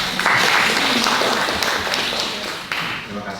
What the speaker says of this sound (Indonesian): tepuk tangan ke beliau